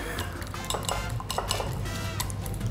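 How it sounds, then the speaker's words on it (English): Eggs whisked in a bowl for a Mexican scrambled egg, a steady run of quick clinking utensil strokes against the bowl, close and fairly loud, with no talk. "And then after that, you just want to whisk it all together."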